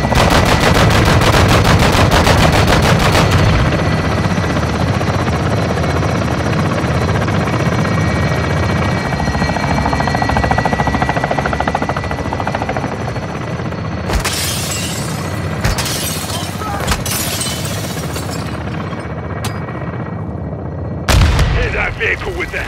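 Heavy gunfire and artillery blasts in the Modern Warfare 2 game, with a loud sustained rattle of automatic fire and booming impacts, followed by sharp bursts later, under a constant helicopter rotor roar.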